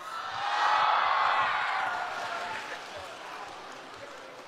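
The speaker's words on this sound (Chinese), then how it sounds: "谢谢啊，谢谢大伙儿稀稀拉拉的掌声" Sparse audience clapping in a crosstalk theater at an opening-night show, fairly faint and thin, swelling briefly and then tapering off.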